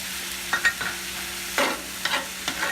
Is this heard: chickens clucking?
no